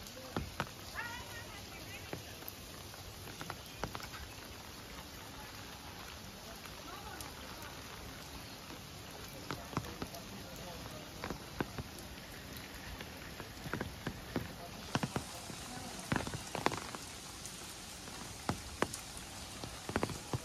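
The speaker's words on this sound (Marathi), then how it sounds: "सुंदर असं वातावरण, छान पाऊस." Steady rain falls throughout at Mahabaleshwar, India, with scattered drops and splashes, while people talk intermittently over the downpour.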